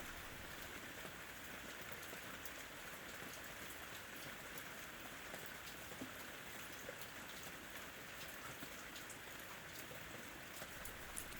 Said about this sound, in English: Imagine a single raindrop tumbling to earth.